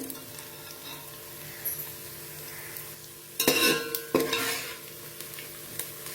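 Onion and peanuts are sautéed in a pan for puffed-rice bhel, with a soft, steady sizzle and two louder bursts of scraping and stirring around the middle.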